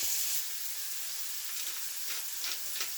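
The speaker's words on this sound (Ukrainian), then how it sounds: "Як трохи підсмажиться бекончик, всипаємо всю цибульку, перемішуємо" Bacon and onion fry in a pan for a pea filling for pies, making a soft continuous sizzle with a few scraping stirs near the end, close and alone.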